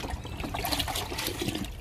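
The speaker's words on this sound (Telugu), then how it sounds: "లిక్విడ్ ఇస్తున్నాను" Liquid fertilizer poured from a container onto the soil of a potted fig plant, a steady close splashing trickle lasting throughout with no talk.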